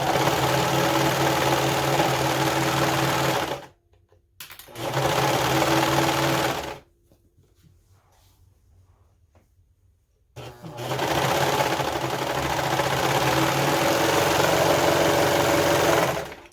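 Serger sewing machine stitching flannel and outer fabric for a DIY hooded scarf, running in loud, steady, fast-buzzing bursts with two short pauses and a longer quiet stretch between runs, close and without talk.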